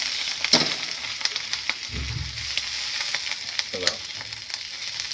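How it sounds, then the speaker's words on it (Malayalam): Sea clams fry in a pan with a close, crackling sizzle, broken by scattered sharp pops and a brief scrape of stirring, with no talk. "ഇതിൽ നിന്ന് എടുത്തിട്ട് പൊരിക്കുന്നുണ്ട്"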